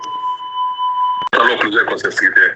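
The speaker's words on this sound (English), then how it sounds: "There is a fire alarm going off" A fire alarm in a garage beeps as a steady, loud two-tone electronic tone for over a second, then cuts off abruptly as talking takes over.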